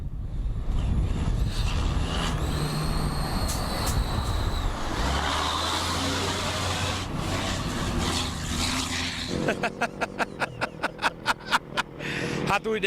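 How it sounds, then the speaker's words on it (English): A Scania rally truck races between two cars on an Africa Eco Race desert stage, its engine roaring loud and close amid passing car noise, ending in a fast run of rhythmic pulsing bursts as the vehicles speed past. "A truck between the two cars, the Scania of Miklos Kovac"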